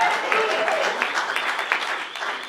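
An audience at an evening event for the game Ratchet and Clank Future: A Crack in Time applauds the weapon's designer, giving a steady, dense round of clapping that holds evenly throughout, with some voices mixed in.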